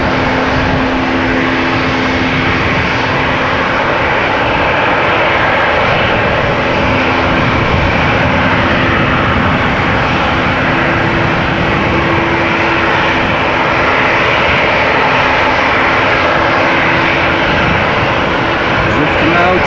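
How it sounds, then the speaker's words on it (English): A KLM airliner lines up on the runway at Amsterdam Schiphol Airport, its engines giving a steady, loud drone throughout, with wind buffeting in the foreground. "KLM flight 1419 in the meantime lining up here"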